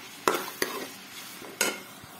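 Chopped onions fry in a pan while a spoon stirs them, giving a few sharp, close scrapes and taps over a faint sizzle.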